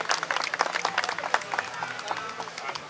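Outdoor crowd at a Pakistan flag raising ceremony in a cultural garden claps in a brief, dense burst of applause, fairly close, with voices mixed into the clapping.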